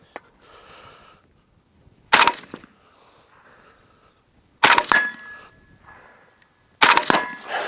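A suppressed Zastava rifle test-fired outdoors, three sharp, loud muffled reports spaced a couple of seconds apart, each with a short ringing tail, against near silence.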